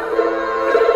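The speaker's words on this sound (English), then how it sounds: "here is my 64 Mini, and you can hear it playing in the background" Video game music from a Commodore C64 Mini, a steady tonal chiptune line that plays continuously and fairly loud for the whole second, with no talking.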